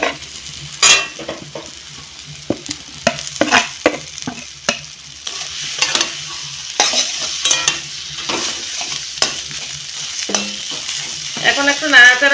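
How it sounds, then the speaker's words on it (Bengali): A spoon stirs grated potatoes with spices frying in a pan, making repeated scraping strokes and clatters over a steady low sizzle, close and moderately loud. "একটু নাড়াচাড়া করে গ্রেট করে রাখা আলুগুলো দিয়ে দেব।"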